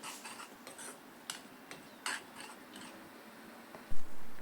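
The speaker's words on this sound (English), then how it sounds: "Add salt as required and mix it well." Metal spoon scraping and clinking in a pan while kaleji masala spices and salt are stirred together, a series of light irregular scrapes and taps, close and fairly quiet, ending with a duller thump.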